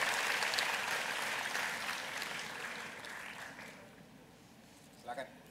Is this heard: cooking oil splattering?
no